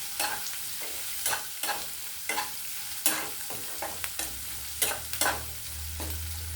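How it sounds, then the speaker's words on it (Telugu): Green chillies and curry leaves fry in hot oil for a snake gourd yogurt chutney, with a steady sizzle broken by repeated scraping stirs of a spoon in the pan at a close, even pace. "కరివేపాకు వేసేద్దామండి. ఇవి ఒక 5 మినిట్స్ వేగాలండి."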